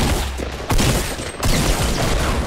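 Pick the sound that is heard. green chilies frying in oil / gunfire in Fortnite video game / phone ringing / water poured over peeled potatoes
gunfire in Fortnite video game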